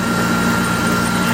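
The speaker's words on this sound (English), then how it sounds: "Austin and I are just gonna keep feeding this little grain mill" A small grain mill runs steadily while being fed grain, a loud continuous mechanical drone with a low hum and no break.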